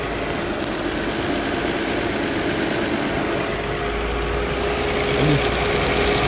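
A 2008 Nissan Altima engine idles steadily with a vacuum leak, a continuous low rumble with a constant hiss of whizzing air over it, close up and fairly loud, with no talking.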